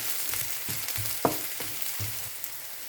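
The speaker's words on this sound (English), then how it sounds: "saute the garlic, onion, and spring onion at same time" Garlic, onion and spring onion sautéing in oil in a pan: a soft, continuous sizzle broken by the light scrape and clatter of stirring.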